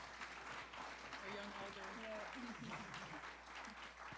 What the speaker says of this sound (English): a big round of applause once again for the amazing work that they're doing